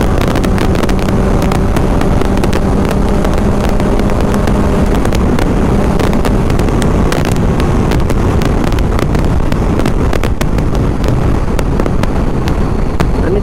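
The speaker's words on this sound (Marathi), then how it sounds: "फुल थ्रोटल ओपन आहे." Motorcycle ridden at full throttle on the road to Tava waterfall near Akole: a loud, continuous engine roar heavily buffeted by wind noise, close and unbroken throughout.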